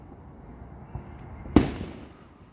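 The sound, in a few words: July 4 fireworks exploding in the distance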